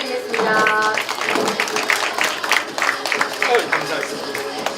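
An audience in a hall gives warm applause, a dense patter of clapping that starts strong and carries on steadily, with crowd noise mixed in and no talk.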